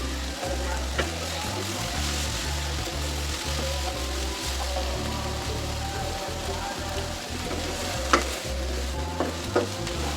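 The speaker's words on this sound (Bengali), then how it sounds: "ঢাকনা খোলা রেখে একটু ভাজা ভাজা করে নিব" Data shak (stem greens) with chepa shutki (fermented dried fish) stir-fried in an uncovered pan gives a constant sizzle with steady rhythmic scraping of the stirring spoon and a few sharp clinks against the pan.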